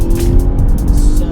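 Audi RS6 Performance with a 550-horsepower engine pulling hard in third gear down a long straight; a loud, dense, continuous engine roar fills the clip from start to end, with no talking.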